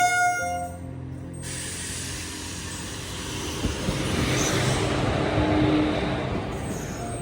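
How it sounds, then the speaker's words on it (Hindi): The Pawan Express pulls out of a station, a low rumble of rolling wheels and carriages building steadily and staying close and loud, with a brief tonal horn-like sound at the start. "बाकी यहाँ पे डिपार्चर हो गया पवन एक्सप्रेस का"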